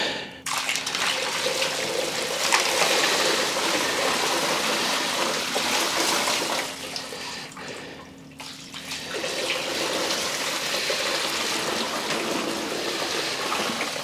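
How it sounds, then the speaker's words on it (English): Water is poured steadily onto freshly unloaded tumbled rock specimens in a close, continuous splashing flow, with a brief dip partway through before the pour resumes. "All right, let's put a little bit of water on."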